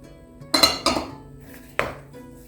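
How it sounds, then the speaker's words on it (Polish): A spoon stirs pressed cottage cheese, vanilla sugar and a whole egg in a bowl for sweet cheese buns, giving three sharp clanks against the bowl over a low steady background hum. "Wszystko razem mieszam."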